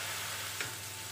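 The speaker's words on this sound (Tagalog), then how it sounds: "Iprito nyo lang siya guys ng 3 minutes." A pressed-flat burger patty frying in a pan gives a brief, steady, quiet sizzle with one small tap partway through.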